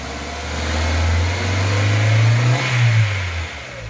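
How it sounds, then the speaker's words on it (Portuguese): A weak-running Ford Fiesta 1.0 8v with hard-starting trouble revs slowly up from idle, its engine note climbing and holding before easing back down, loud and close. "Vinícius, acelera o carro aí devagar, proporcional, vai"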